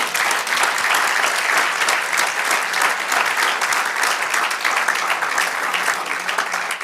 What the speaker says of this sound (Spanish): Va a dar un aplauso al Señor.